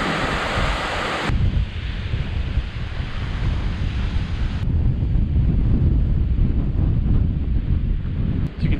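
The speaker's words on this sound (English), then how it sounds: "it's very windy today" Strong wind roars across the open slopes of Carrauntoohil mountain in Ireland, a loud, continuous buffeting rush that fills the whole stretch with no let-up.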